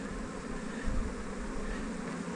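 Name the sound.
honeybees buzzing at the hive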